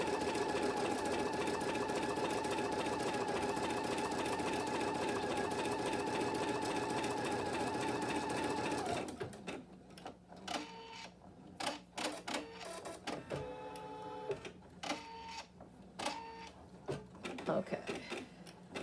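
An embroidery machine stitches a bunny design with a steady, fast mechanical chatter that runs loud and continuous, then stops abruptly partway through, leaving quieter intermittent clicks and brief sounds.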